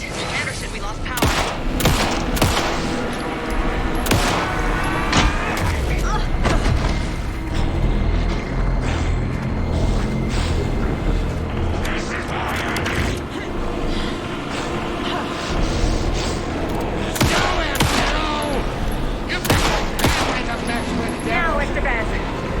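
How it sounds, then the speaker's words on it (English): Alan Wake 2 boss-fight gunfire: dense, loud bursts of shots and booms in repeated volleys against a heavy, continuous game soundscape, with voices calling out during the fighting. "Anderson, pin him down with gunfire for me to get the light on him"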